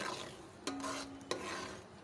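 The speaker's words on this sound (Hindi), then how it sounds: "अच्छी तरह से प्याज के साथ भी टमाटरों को भून लेंगे।" Onions and tomatoes frying with masala in a pan, a steady soft sizzle broken by two sharp stirring scrapes with a brief metallic ring, close and alone.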